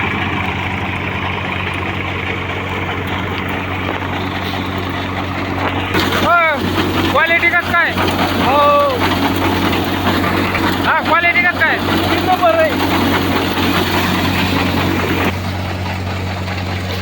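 A tractor engine runs with a steady, low mechanical drone throughout, with people talking nearby over it for much of the time.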